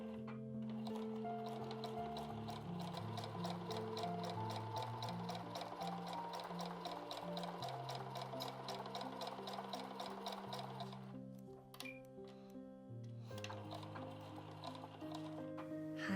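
Sewing machine stitching folded lining fabric for a patchwork bag, a rapid steady mechanical run of needle strokes that pauses briefly, then resumes at a slower, lighter pace.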